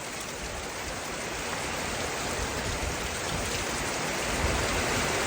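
Steady heavy rain falls during a storm, a dense, loud, unbroken hiss of drops on surfaces that holds evenly throughout with no voices.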